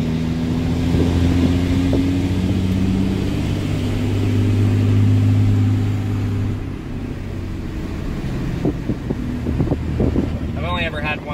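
A 2006 Cummins diesel pickup drives along in second gear, its engine drone steady and close under wind noise, while someone talks over it throughout.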